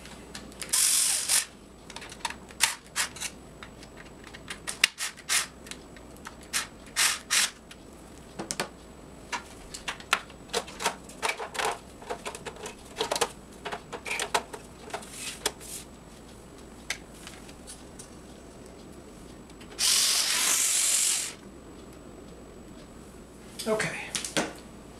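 Screws are tightened with a ratcheting screwdriver while a TiVo Premiere DVR is upgraded, giving many quick, close clicking bursts. Short pauses break them up, and a longer whirring burst comes near the end.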